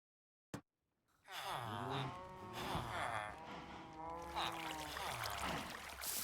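A cow in the video game Minecraft moos in a series of drawn-out, fairly loud lowing calls that follow one another closely, heard alone without talk.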